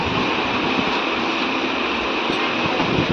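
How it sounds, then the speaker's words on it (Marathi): Continuous broadband rumble and rushing noise of a reserved passenger train departing, steady and fairly loud throughout with no voices. "रिझर्वेशन ट्रेन आता सुटते"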